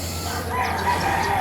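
A rooster crows in a short, drawn-out call at moderate distance, rising and then trailing off over a steady background hum.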